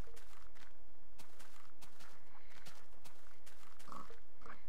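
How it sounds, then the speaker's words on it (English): Pig grunts and oinks from a crowd of pigs in the video game Minecraft, short repeated calls at a moderate level over a steady background, with scattered soft footstep-like thuds and no talking. "there are just a ridiculous amount of pigs."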